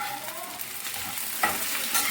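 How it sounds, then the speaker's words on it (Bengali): Tomato and green chili tossed into browned onions frying in oil for a koi fish curry, a constant close sizzle with a couple of sharp stirring scrapes. "এখন টমেটোটা দিয়ে দেবো। টমেটো আর কাঁচা লঙ্কা আছে এর মধ্যে"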